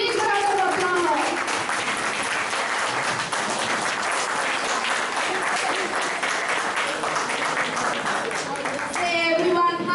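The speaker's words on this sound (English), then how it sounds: "Welcoming big round of applause." Audience applause at a children's stage event welcoming young performers, steady dense clapping throughout, close and loud, with faint voices mixed in.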